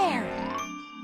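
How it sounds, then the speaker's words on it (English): Cartoon bells at a school ring out in a bright, tinkling chime that starts loud and rings on as a slowly fading, sustained tone over about a second. "bells are ringing"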